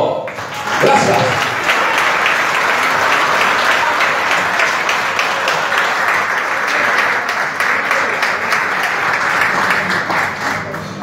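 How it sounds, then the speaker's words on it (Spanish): An audience at an opera show breaks into full, sustained applause that runs steadily for about ten seconds before easing slightly, with a brief vocal sound near the start. "Bueno, otro aplauso, sí, gracias."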